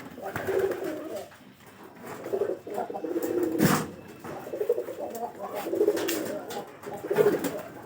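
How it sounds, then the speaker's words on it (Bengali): Pigeons coo repeatedly in a loft or coop, soft low rolling calls rising and falling in several bursts, fairly close, with faint background noise. "এই কবুতর ডাকটা ভালো আছে।"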